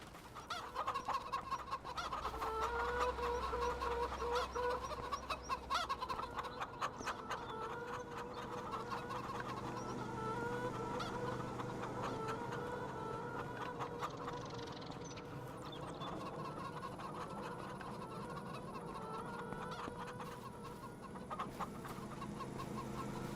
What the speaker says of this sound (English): Checking my chickens.